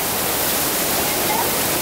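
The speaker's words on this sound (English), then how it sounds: "like that little waterfall." Small waterfall pouring in a steady, dense rushing hiss, close and constant with no breaks.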